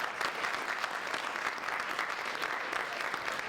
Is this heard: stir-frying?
no